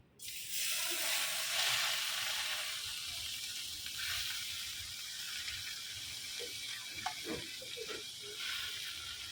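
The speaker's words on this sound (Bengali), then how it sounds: "এখন এই যে কড়াইতে শাকটা দিয়ে দিব" Tokaina shak greens dropped into a hot wok (kadai) in a home kitchen, giving a steady broadband sizzle and hiss that holds loud throughout, with faint clinks and stirring sounds toward the end.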